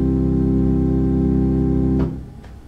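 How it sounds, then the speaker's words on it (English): A sustained pipe organ tone from the diapason stop on the swell holds steady with rich harmonics, then cuts off and rings briefly in St Matthew's church, West Pennant Hills, before fading. "we hear the diapason on the swell"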